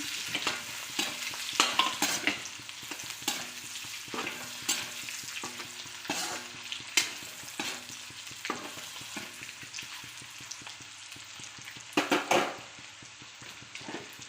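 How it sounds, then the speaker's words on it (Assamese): Peeled boiled eggs being stirred into fried onions in a pan, a continuous soft sizzle under repeated scraping and clinks of a spatula against the pan, steady and close with no talking. "ইয়াত মই এনেকৈ বাকলি গুচাই থোৱা ডিমকেইটা দি দিছোঁ এতিয়া অলপ লৰাই আছোঁ"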